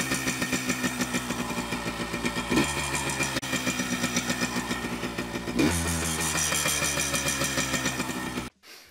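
A Suzuki RM250 two-stroke dirt bike engine idles close by with a steady, even popping rhythm, its pitch shifting slightly twice before cutting off abruptly near the end.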